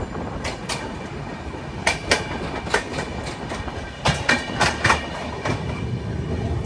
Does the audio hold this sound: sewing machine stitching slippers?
no